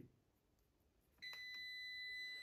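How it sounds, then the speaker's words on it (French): A multimeter continuity beep sounds as its probes are touched to wires on a boiler terminal block while a programmable thermostat is installed, a sudden sustained high electronic tone that holds steadily after a brief quiet moment. "mon multimètre bip, vous écoutez"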